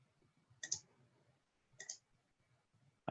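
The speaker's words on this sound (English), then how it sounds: "I can hear something clicking." Two faint, sharp clicks about a second apart come through a video call on an online consultation meeting, with near silence around them and a third click at the very end.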